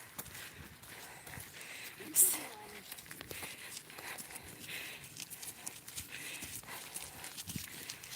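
A cow being led on a walk outdoors, its hooves clopping softly on the ground in an uneven, steady pace, fairly faint beneath broadband outdoor noise, with voices talking nearby.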